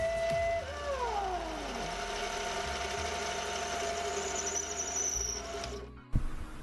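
A lathe turns a whiskey barrel wood and Damascus steel ring with a steady whining hum and falling pitch sweeps, running evenly, then cutting off near the end with a sharp knock.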